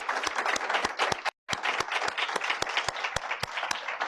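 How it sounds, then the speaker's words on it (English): Audience applause after a guest speaker's talk at a center event, a steady wash of many hands clapping with sharp individual claps standing out, briefly cut to silence partway before resuming just as loud. "Another round of applause for Reagan."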